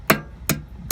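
A nail head is hammered into a chainsaw chain, three sharp metallic taps evenly spaced about a beat apart, loud and close with no talk.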